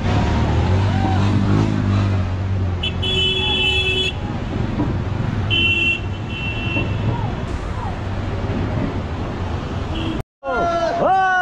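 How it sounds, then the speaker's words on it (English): Motorbikes set off from a landslide roadblock on a mountain road in Ladakh, engines droning under busy traffic noise, repeated horn toots and crowd chatter. People talk throughout, and the sound cuts out briefly near the end. "finally these bikes are being allowed to leave first, because they are small vehicles"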